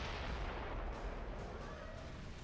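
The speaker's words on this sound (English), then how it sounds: "Mortar units." Mortar fire in Gears of War: Judgment, a continuous barrage of heavy, rumbling booms and blasts that stays dense and loud throughout, with no distinct gaps between impacts.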